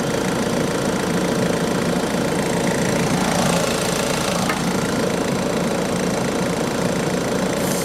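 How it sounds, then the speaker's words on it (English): A Ford Focus 1.5 TDCi MK3 diesel runs steadily with its AC compressor engaged, a continuous mid-pitched idle hum with faint knocking, close and even throughout with no talk. "Compressor is on."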